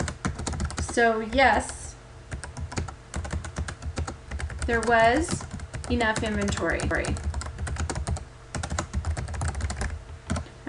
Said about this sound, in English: Now I'm just typing that like I'm typing in Word